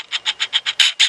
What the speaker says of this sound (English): autofocus it while recording, then it will make sounds like this